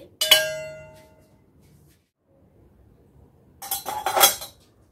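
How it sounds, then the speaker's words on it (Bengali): A metal lid clangs onto a pot of peas pulao with a ringing hit that fades. After a pause, a second burst of rattling metal clinks follows close by. "স্ট্যান্ডিং টাইমে রাখার জন্য একটা ঢাকনা চাপা দিয়ে দিচ্ছি।"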